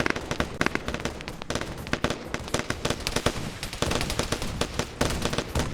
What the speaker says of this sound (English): we can hear the gunfire from here